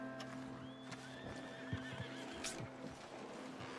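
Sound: agitated horses neighing in video game Red Dead Redemption 2

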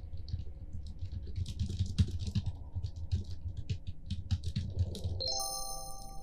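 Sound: keyboard typing sound in a horror video game

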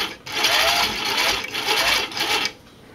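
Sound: cover stitch sewing machine stitching

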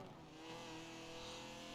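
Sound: BMW M3 engine accelerating in Forza Horizon 4 video game

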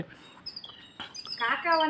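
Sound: sparrows chirping while fighting over scattered rice

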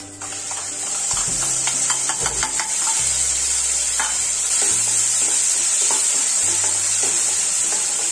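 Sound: frying spices and tomato paste in a pan

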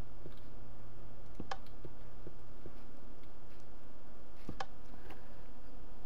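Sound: button presses on a combination lock in Minecraft, video game

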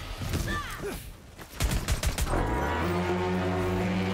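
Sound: gunfire from shooting things in a video game

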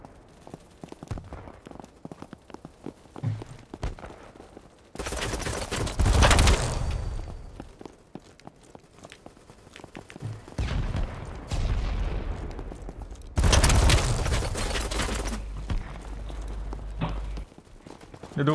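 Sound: Kriss Vector gunfire in video game Battlebit

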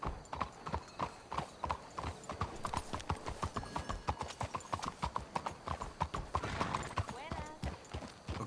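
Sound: horses trotting in video game Red Dead Redemption 2

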